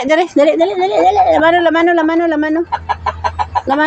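A chicken clucks and squawks close by in rapid bursts, mixed with a person's voice calling out over it.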